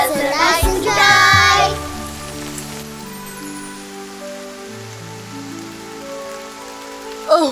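Cartoon rain pattering steadily on a surface while an animated umbrella character walks home through a rainy sky, heard under a soft sustained musical tune with a brief louder burst near the start.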